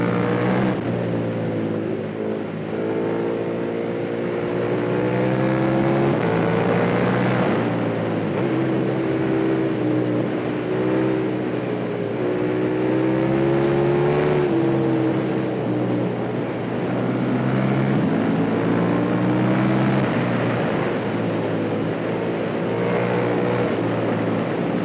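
A KTM 1290 Super Duke R 2020 with an Akrapovic exhaust, its engine revving and pulling through gears in repeated rising sweeps, a loud continuous roar with steady pitch climbs and drops.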